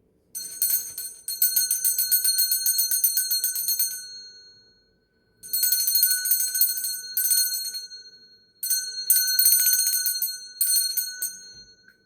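A high-pitched bell, rung to cleanse a space, sounds in four bursts of dense bright ringing with short silent gaps between them, loud and close with no voices.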